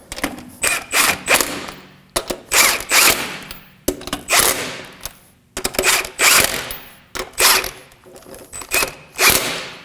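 Lug nuts snugged onto a wheel of an Acura MDX with a hand ratchet, heard as repeated bursts of fast clicking pawl strokes in an uneven rhythm with brief pauses between, loud and close with no talking.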